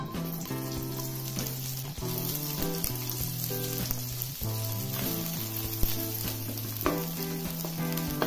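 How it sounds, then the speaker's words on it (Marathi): Onion frying in hot oil for a Kolhapuri mixed-vegetable dish, with a steady sizzle alongside sustained melodic tones that sit over it for the whole stretch. "थोडंसं तेल टाकायचं आहे त्यामध्ये, कांदा परतून घ्यायचा, तेल गरम झाले की"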